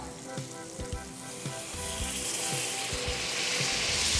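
Apples frying in a pan as squeezed blood orange juice goes in for a German pancake, giving a steady close sizzle that swells louder and hisses more brightly toward the end, with a few soft clinks and stirring sounds.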